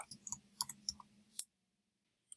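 Sharp computer mouse clicks on a desktop, several quick taps scattered across the first second and a half, close and crisp, followed by silence and one last click at the very end.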